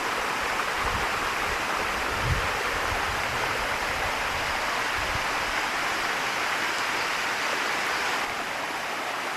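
Water pours steadily over the calcium-deposit rock of Sticky Waterfall near Chiang Mai, Thailand, a dense, even rushing roar that stays loud and unbroken throughout with no voices.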